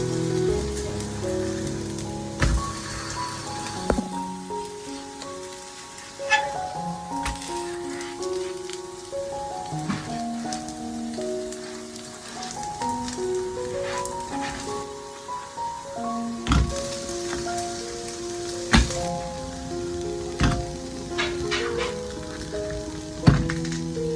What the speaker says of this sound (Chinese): 全程大概煎10分钟左右，把两面都煎到金黄酥脆的程度就行